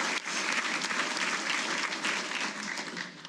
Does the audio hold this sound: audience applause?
yes